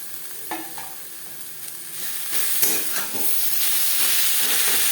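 Chopped banana flower is stirred into fried coconut in a hot pan. The close, bright sizzle swells after a few scraping stirs and then holds steady and loud.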